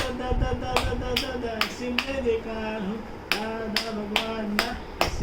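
A child claps their hands in a string of sharp, irregular claps, roughly eight in all, close by over a background of voices and household murmur.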